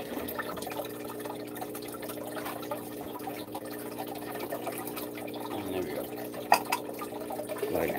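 Water being drawn out of a fish tank holding baby puffer fish, a faint, steady trickling and gurgling over low background hum, with a small splash near the end.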